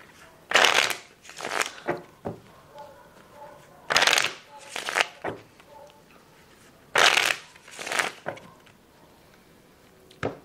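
Playing cards are riffled several times in quick bursts, crisp fluttering snaps separated by short pauses, close and fairly loud.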